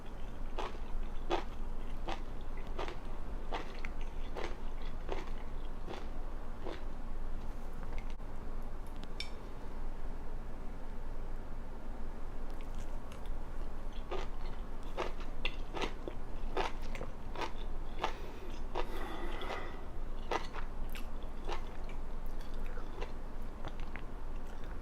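Someone chews Hong Kong street-style braised tripe up close, with repeated crisp, snappy bites and soft squishy chewing over a low steady background hum, and no talking.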